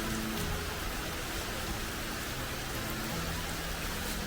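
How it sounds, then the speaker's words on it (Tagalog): Rain falling beside the water during a fishing trip at Binh Quoi, Saigon; a steady, soft hiss of drops pattering on surfaces, continuous and even throughout with no talking. "Kahit pala umuulan pwede."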